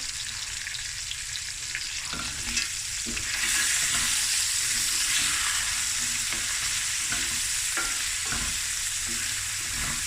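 Lamb fried rice stirred in a hot pan, with a loud, steady sizzle that swells partway through under scattered scraping and tossing noises, close up and with no voices.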